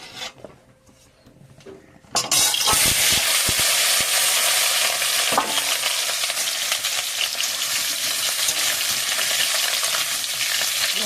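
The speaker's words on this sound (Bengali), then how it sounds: "চিকেন রান্না হচ্ছে।" Chicken cooks in a hot pan at home. A quiet stretch gives way to a loud, steady broadband sizzle with occasional scraping stir strokes, and the sizzle runs unbroken to the end with no talking.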